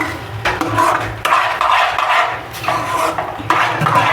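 A spoon stirs a thick caramel cake batter in a pan, scraping and knocking in steady close strokes with short pauses between, no voices.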